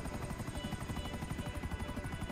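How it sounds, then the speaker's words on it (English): A video game helicopter's rotor chops in a fast, steady rhythm, loud and close throughout a short burst with no voices over it. "At the very least, it's a helicopter."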